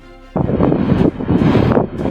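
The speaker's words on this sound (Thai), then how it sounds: "ลมพายุเริ่มพัดแรงขึ้นทุกขณะ ฝุ่นทรายลอยขึ้นเป็นสายในอากาศ" Storm wind from an audio drama sound effect blows in loud, close gusts that swell and ease in quick surges for about two seconds, with no speech over it.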